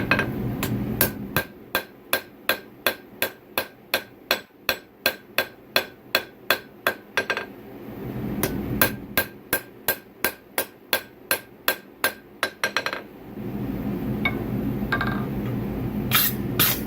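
A hammer's rounded, slightly flat face strikes steel in steady, ringing blows while forging a Damascus and tool steel axe, about twenty hits in two runs separated by a short pause, then a rough scraping hiss.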